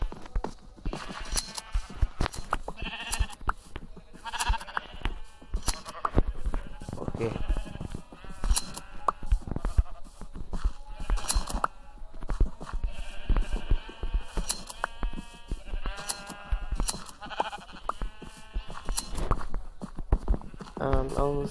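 Sheep bleating in the video game Minecraft, with repeated bleats scattered through a long, busy stretch of clicks, footsteps and game noises, partly under a man's speech.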